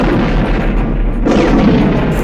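A car explodes after crashing, a loud, booming explosion with a dense, rumbling burst that sustains for a couple of seconds, heavy and close.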